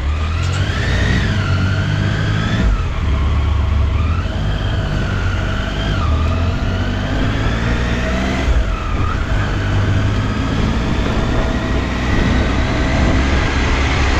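A motorcycle engine runs while riding through Ladakh, droning steadily with its pitch climbing and dropping in repeated surges of acceleration, carried over constant wind and road rumble.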